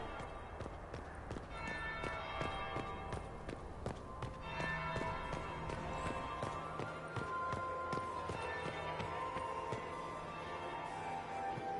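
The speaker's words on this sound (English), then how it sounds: "That would be the second bell." A church bell rings in a Dragon Age video game scene, several resonant tolls among clattering hoof-like clops and footsteps in a busy, echoing soundscape.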